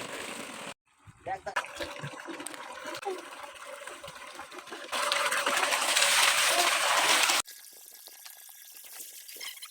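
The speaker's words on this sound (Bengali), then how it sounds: "এখন এটাকে মটর ছেড়ে সুন্দরভাবে ধুয়ে নেব" Water from a motor pump gushes and splashes over clothes being washed, a continuous rushing flow that grows louder midway, then cuts to a softer trickle, with voices faintly in the background.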